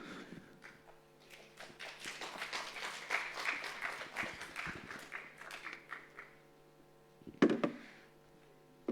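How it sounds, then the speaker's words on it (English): Audience applause at an academic presentation on healthcare swells and rattles for several seconds over a soft sustained music tone, then fades, with one sharp knock near the end. "Please give them warm welcome and applause."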